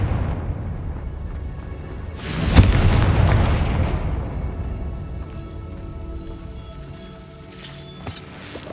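A Confringo blasting spell from Hogwarts Legacy goes off as a single loud, sharp boom with a crackling burst that slowly fades into a lingering rumble, followed near the end by a smaller second crack.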